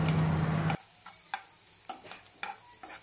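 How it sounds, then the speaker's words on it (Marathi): A spoon scrapes and taps through onions and spice masala in a pan for tender jackfruit curry, giving a short burst of sizzling and then a few light, spaced clicks and scrapes, close and fairly quiet. "आता यात थोडा मसाला टाकायचा आहे आणि नंतर ढवळून घ्यायचं आहे।"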